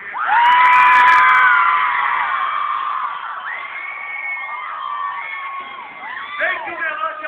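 A crowd at a live funk show shouts and cheers in one loud sustained roar that eases slightly and then swells again with scattered whoops.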